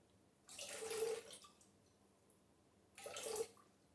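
Plain tap water poured into a bowl for homemade pizza dough, two short, quiet splashing pours, the first about a second long and the second briefer, with stillness between.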